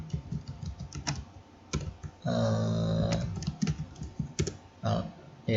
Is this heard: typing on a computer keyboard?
yes